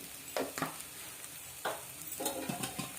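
Soybean masala with red chili being stirred in a pan, a few scraping spatula strokes over a soft, steady sizzle of frying spices, close and fairly quiet.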